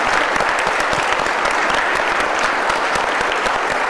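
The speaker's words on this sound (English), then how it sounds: "Let's give them a applause." An audience claps steadily for board members at a meeting, a dense, continuous burst of applause that holds even and fairly loud throughout.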